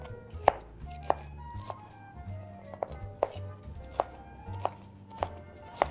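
A knife slicing a green pepper on a cutting board for a Greek salad, with evenly spaced sharp chops that land roughly every half second, close and clear against a quiet kitchen background.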